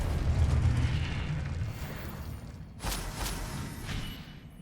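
A Confringo blasting spell explodes in the Hogwarts Legacy video game: a deep rumbling blast that fades, then a second sharp boom with a rolling, crackling tail.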